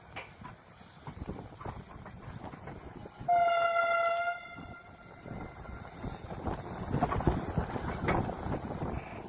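A Vande Bharat Express train arrives at Shri Mata Vaishno Devi Katra station, its horn sounding one sustained loud blast over the rumble of the rolling train and platform crowd noise.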